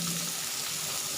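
Water runs steadily while wet rice noodles are washed, a continuous close, even splashing hiss with no breaks and no voices.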